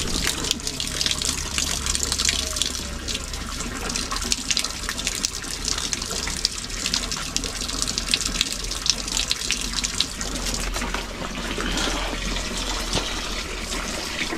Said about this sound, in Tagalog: Now, ang tubig nag-awas-awas.